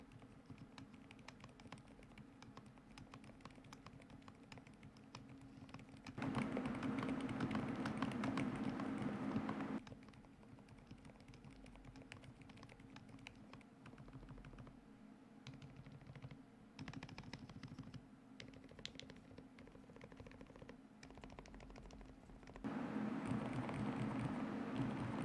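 Typing on a keyboard fitted with Lucy silent switches, a dense run of soft, muffled keystrokes close by, heard alone with no talking, with short louder bursts standing out between quieter stretches.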